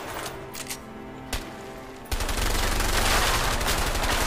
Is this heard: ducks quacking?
no